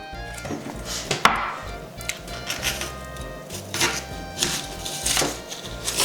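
Knife chopping a peeled onion on a board for a light Olivier salad, a run of quick, close, crisp cuts with uneven rhythm, no talking.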